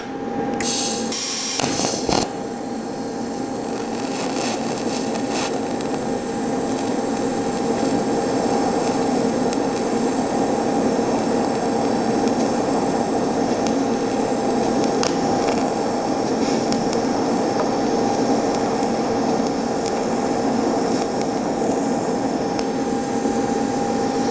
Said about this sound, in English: But now we'll flip it over to the DC side and let's do some steel welding.